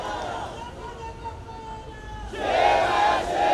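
Crowd at a political rally in Jogeshwari East chanting a slogan in unison, a loud swelling roar of many voices rising toward the end over general babble.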